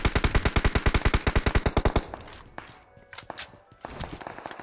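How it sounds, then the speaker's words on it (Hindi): Rapid automatic gunfire in a battle royale video game, a dense loud burst of evenly spaced shots for about two seconds, followed by scattered distant shots and thuds. "धड़ाधड़ गोली चले जा रही है।"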